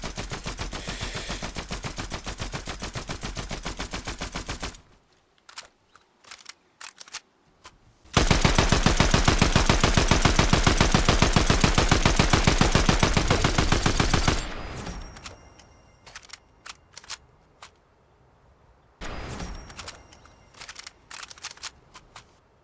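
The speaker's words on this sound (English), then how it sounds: "let's see the side-by-side time of the reload speeds for the drum mag and the speed mag on the Warforged assault rifle" Warforged assault rifle in Fortnite, two long sustained bursts of rapid automatic fire, each followed by mechanical reload clicks and clatter, ending with shorter bursts, loud and close.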